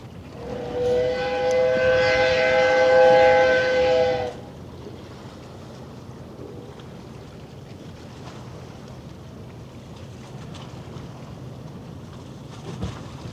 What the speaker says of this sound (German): Das Wassertaxi auch schon wieder auf dem Rückweg.